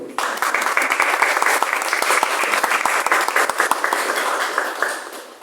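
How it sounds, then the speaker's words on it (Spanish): An audience at a book launch in a municipal library applauds strongly, a full, close burst of clapping with sharp individual claps, sustained for several seconds before tapering off. "Un fuerte aplauso para todos."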